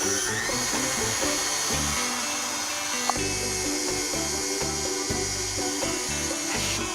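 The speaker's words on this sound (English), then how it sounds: "Start with a clean, fresh whisk attachment." Stand mixer with a whisk attachment whipping egg whites with sugar, a steady loud mechanical whir running throughout with a rhythmic pulsing hum underneath.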